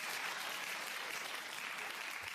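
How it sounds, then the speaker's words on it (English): A faint, steady wash of audience applause plays alone at a low level, continuous and unbroken for its short length. "Give myself a round of applause."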